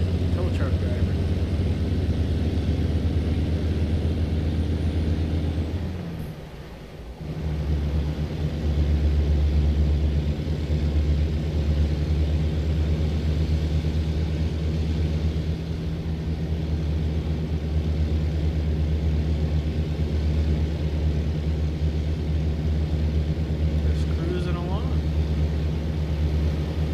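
A Kenworth wrecker tow truck engine in a truck-driving game drones loud and steady, a deep continuous rumble with a brief dip near the start, while someone talks over it.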